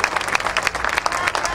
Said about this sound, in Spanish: nuestro aplauso, nuestra ovación cumplidísima para estos virtuosos de la música